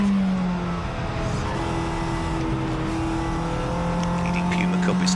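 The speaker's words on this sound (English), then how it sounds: "4 cars trying to get past one Ford Puma there, and Danny Cassar" Touring race cars in a CSCC Tin Tops race at Silverstone National, including a Ford Puma, Honda Civic and Honda Integra DC5, drone steadily as a pack with sustained engine tones throughout, under commentary talk.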